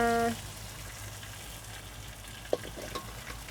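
Tofu stir-fries in a pan, a quiet, steady sizzle with occasional clicks and scrapes of a utensil, close by and with no talking.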